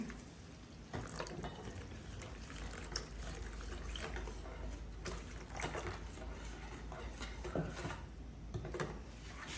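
Warm water mixed with yeast and sugar in a cup for pizza dough: a continuous close splashing and trickling of liquid, fairly steady throughout, with no talk.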